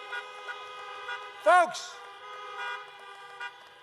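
Car horns honk at an outdoor political rally, with sustained tooting tones and a louder, brief blast midway. Someone speaks over them.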